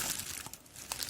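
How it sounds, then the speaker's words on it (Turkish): Plastic bubble mailer crinkles and rustles as it is handled and opened during an AliExpress unboxing, with crisp crackling bursts close up and no talk. "Yine böyle havalı poşetle geliyor."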